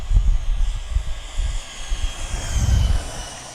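A Freewing Zeus 90mm sport jet RC model with full flaps glides in on approach with power off, its faint ducted-fan whine drifting across the sky under heavy low wind rumble and buffeting.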